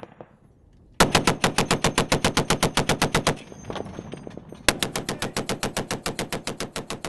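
A heavy machine gun fires at an infantry training school in Kabul: two long, rapid bursts of evenly spaced shots, loud and close, separated by a brief pause.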